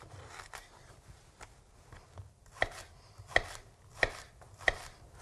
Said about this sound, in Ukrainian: Ріжемо цибулю, зайве відрізаємо.